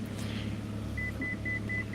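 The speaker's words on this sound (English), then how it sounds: "Oh, you're gonna beep at me like that." A car gives a series of short, evenly spaced electronic beeps, four or five in a row, over a low steady engine rumble inside the cabin; the beeps are clear but moderate in volume.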